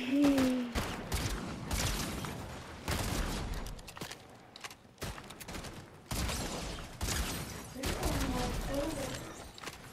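Gunfire in Fortnite: repeated sharp bursts of shots in quick volleys across the stretch, loud and close, with a person speaking excitedly over them.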